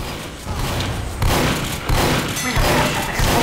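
Rapid bursts of shotgun fire and booming gunfire in the video game Team Fortress 2, loud and dense, with several heavy blasts cutting in over a busy battle din.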